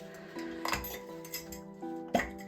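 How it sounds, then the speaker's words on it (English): A glass jar holding bitumen paint is handled, giving several light clinks and taps at close range, spaced irregularly over a low background hum. "I put some in a glass jar"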